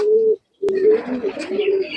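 A male pigeon coos in a loft, close and clear: a short low coo, a brief pause, then a longer rolling coo with soft throaty warbles.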